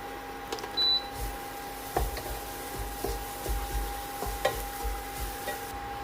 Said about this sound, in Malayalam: വെളിച്ചെണ്ണ ചൂടായി അതിലേക്ക് തേങ്ങ ഇട്ട് കൊടുക്കാം